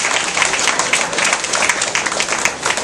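An audience at a tourism week event on Nevis breaks into steady, dense applause, many hands clapping together at close range for a few seconds.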